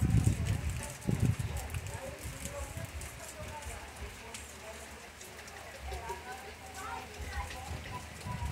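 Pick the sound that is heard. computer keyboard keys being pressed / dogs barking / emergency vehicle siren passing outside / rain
rain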